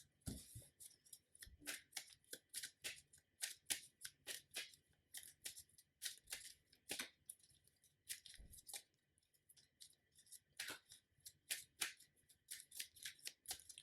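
Playing cards from an Arkham Horror card game deck being shuffled by hand, a run of quick crisp riffling bursts and soft slaps, fairly close and moderately quiet with no talk.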